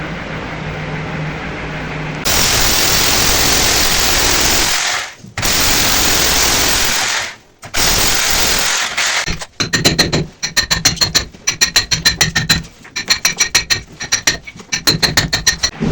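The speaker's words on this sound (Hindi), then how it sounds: "अब यहाँ पर सुराख करेंगे जो कि हमारा ड्रेन पाइप और कॉपर पाइप जो है ना बाहर की तरफ जाएगा।" A drill bores through a wall to make a hole for the drain and copper pipes of a Haier 1-ton AC: long, loud grinding runs with brief pauses, then rapid stuttering hammer-drill bursts.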